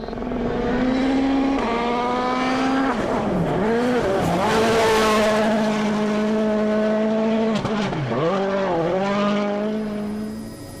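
Citroën DS3 WRC rally car driving flat out on the power stage of Rally New Zealand 2012, engine note loud and close with rising and falling revs through gear changes, a sustained high-pitched roar throughout.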